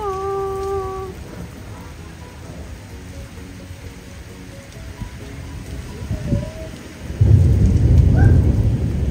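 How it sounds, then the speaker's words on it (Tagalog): Heavy rain pours steadily while deep thunder rumbles and swells toward the end; a few brief tonal chirps sound early on. "Lakas ng ulan. Ayan, may pakidlat forever."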